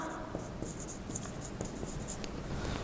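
Chalk or marker scratching across a classroom board in a steady stream of short strokes over a constant room hum, with no voices.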